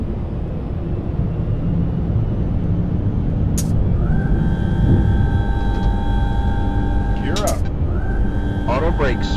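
Boeing 767-300 climbing out of Tampa after takeoff, heard from the cockpit as a loud, steady engine and airflow roar with a few tonal cockpit chimes and brief crew voices.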